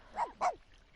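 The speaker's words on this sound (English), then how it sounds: "The dogs are like barking their heads off." A dog gives two quick, sharp barks in close succession, loud and near, with a yelping edge to each.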